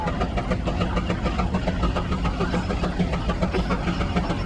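An antique engine runs steadily at the RockRiver Thresheree parade, a continuous rumbling chug with a regular pulsing beat, close and fairly loud.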